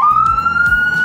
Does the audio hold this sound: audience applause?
no